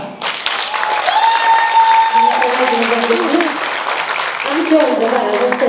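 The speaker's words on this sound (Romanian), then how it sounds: "Aș dori să aplaudăm o dată cu mine" Audience applause greets a rhythm and blues singer on stage, steady clapping filling the room for several seconds while a voice and sustained musical tones ring over it.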